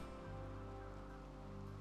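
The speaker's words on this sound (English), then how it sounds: "Gonna be cold and a rainy thunderstorm." Rain falls steadily during a cold thunderstorm in the video game RimWorld, a soft continuous hiss of drops with no breaks, quiet and even throughout.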